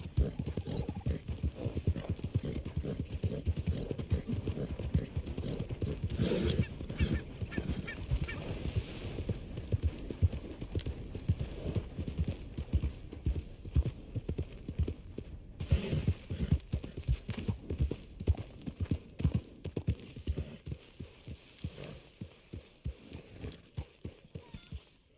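Steady clip-clop of horse hooves trotting at a brisk rhythm in the video game Red Dead Redemption, fairly quiet, with faint background noise throughout.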